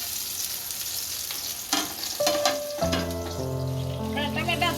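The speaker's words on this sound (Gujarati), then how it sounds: "હવે આમાં આપણે લસણની કળી નાખશું." Garlic cloves fry in a pan with a constant sizzle and a few clattering knocks. Partway through, a sustained tonal hum rises over the frying and continues to the end.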